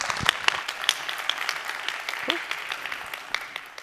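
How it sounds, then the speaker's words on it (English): Applause from a tech talk audience welcoming a speaker for an introduction to PySpark, thinner clapping with distinct individual claps standing out over a softer patter that gradually fades. "big round of applause for"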